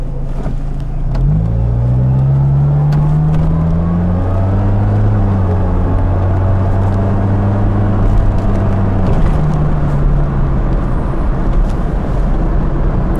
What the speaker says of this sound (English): Just drive a little farther so you can hear the car shifting.